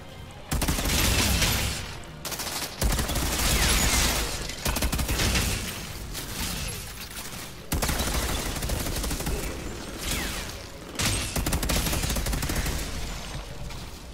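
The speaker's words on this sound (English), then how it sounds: "Why are you shooting like that?" Dense rapid-fire gunfire from the Outriders video game, sustained automatic bursts with short gaps, loud and close throughout.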